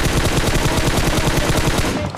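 Rapid automatic gunfire in the PUBG Mobile video game, a dense, loud, continuous burst of shots that cuts off abruptly near the end.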